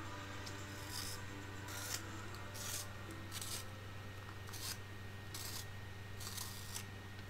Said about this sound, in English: So Prismacolor Black Cherry PC1078. Sharpen that.